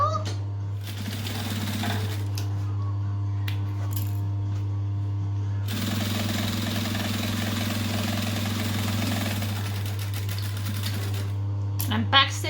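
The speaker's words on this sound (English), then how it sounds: "So I'm just going to stitch the center of this one as well." Sewing machine stitching down the center of an interfaced vinyl bucket bag, a steady mechanical whir running throughout with brief pauses near the start and a denser burst in the middle, a low mains hum beneath.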